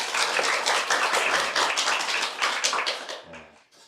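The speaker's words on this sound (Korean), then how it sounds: "감사의 박수 한번 합시다." A church congregation bursts into sustained applause in thanks, many hands clapping densely and steadily for about three seconds before the sound thins out and stops.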